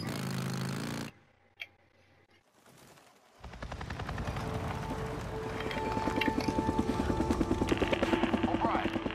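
Game audio from Days Gone with a steady helicopter rotor thrum building over busy gunfire-like bursts, loud and continuous after a brief quiet gap.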